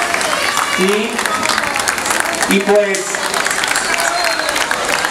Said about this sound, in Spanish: Un fuerte aplauso para este equipo